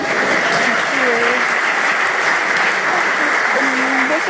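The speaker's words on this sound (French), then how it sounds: "Applaudissez les talents de notre vie." Loud audience applause at a Congolese comedian's stand-up show in Montreal, dense and continuous throughout, with faint cheers or voices mixed in.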